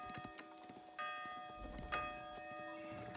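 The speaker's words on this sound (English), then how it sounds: "That's just the ring of the bell." A bell rings in the real-time strategy game Age of Empires IV during a tournament match, a faint metallic chime with long sustained tones, mixed with soft clip-clop of horses and other quiet game sounds, no talk.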